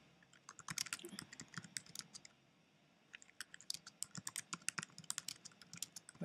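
Fingers type a message on a computer keyboard in quick uneven bursts of close, crisp key clicks, with a short pause partway through before the tapping picks up again.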